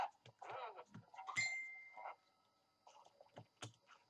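A phone gives a single short notification ding in the middle of Roblox nextbot gameplay, surrounded by scattered clicks and taps at low volume.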